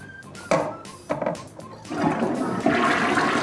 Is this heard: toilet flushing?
yes